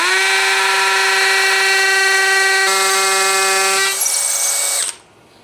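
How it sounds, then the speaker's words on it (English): A powerful hammer drill running in hammer mode, a loud steady whine with strong harmonics that shifts pitch partway through, continues for several seconds, then stops abruptly. "you gotta make sure that the drill is in hammer drill mode"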